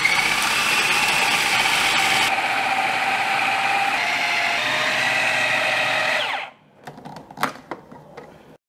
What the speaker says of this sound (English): Now let's turn on the food processor to evenly mix the ingredients and turn this into pork paste